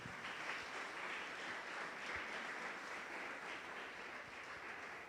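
Congregation applauding children during a church service, a dense, even round of clapping heard from a distance that holds steady for several seconds with no talk over it.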